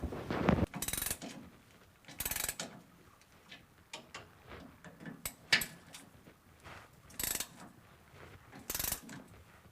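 A ratchet works on rusted skid plate bolts under a 1997-2003 Ford F150 5.4L crew cab, giving close, irregular bursts of rapid metallic clicking separated by short pauses and light handling noises.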